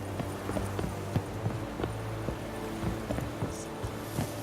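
Clip-clop of a horse's hooves in the video game The Witcher 3, a steady trotting rhythm set against a dense game soundscape, moderately loud with no talking.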